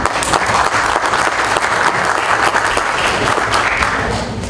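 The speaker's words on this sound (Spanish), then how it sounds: "doctor en arquitectura Alejandro Gómez Ríos, a quien vamos a recibir con un fuerte aplauso" An audience at an architecture lecture on home energy alternatives gives a loud, dense round of applause to welcome the speaker, many hands clapping steadily before tapering slightly at the end.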